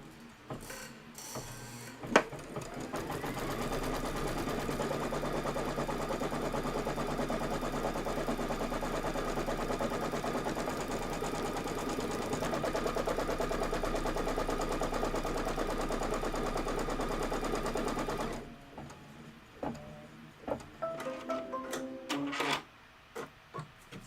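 An embroidery machine stitches the placement line for a filler block's background in a Kimberbell Cup of Cheer project. It gives a loud, steady, rapid mechanical rattle for about eighteen seconds, then stops, leaving a few quiet clicks.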